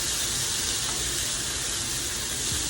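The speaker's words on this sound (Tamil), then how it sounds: "ஒரே ஒரு நிமிஷம் வதக்கிட்டு அப்படியே ஆஃப் பண்ணிடுறோம்" Coconut and onion sautéing in a hot pan, a steady close sizzle and hiss that lasts the whole moment with no talk.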